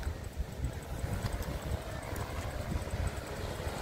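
A steady, rough whirring drone from stunt kites in the wind, like air rushing past taut fabric, holds for several seconds without pause or change, at a kite festival in Varna.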